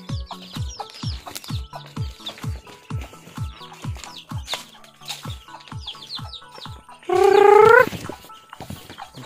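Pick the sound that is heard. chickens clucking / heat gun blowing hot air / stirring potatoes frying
chickens clucking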